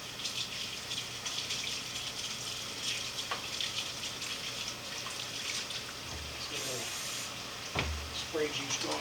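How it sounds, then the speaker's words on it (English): A kitchen tap runs in a steady hiss as hands are washed, with a few soft clinks and splashes and a person talking over the flow. "Now we gotta wash our mitts again."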